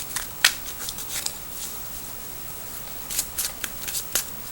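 Tarot cards shuffled by hand up close, soft riffling and flicking bursts in an irregular rhythm with quiet pauses between them.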